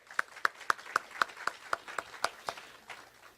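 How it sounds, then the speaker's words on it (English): A lone pair of hands clapping at a school Teacher of the Year ceremony, about a dozen sharp, evenly spaced claps in a steady rhythm, close and fairly quiet, trailing off at the end. "if we could give her a round of applause"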